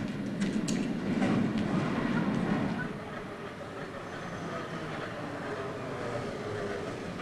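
An S-Bahn commuter train in 1987 East Berlin rumbles along with rolling, clattering noise, louder at first and then settling into a steadier hum.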